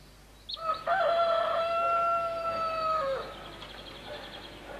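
A rooster crows once, a single loud drawn-out call lasting about two seconds, close and clear over quiet background.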